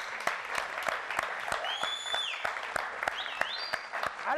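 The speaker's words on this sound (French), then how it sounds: "Je pense qu'on peut applaudir." Studio audience claps during a Congolese game show after contestants win Congolese franc prizes, with sharp, spaced handclaps and bright electronic sound-effect sweeps rising over them, fairly loud and without speech.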